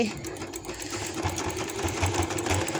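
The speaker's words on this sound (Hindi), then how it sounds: "एंड तक मैं सिलाई लगा के तो आपको दिखाती हूँ कि कैसे सिलाई लगा रही हूँ।" A sewing machine stitches joint lace onto fabric, its needle running in a steady rapid chatter with a low, regular mechanical pulse throughout.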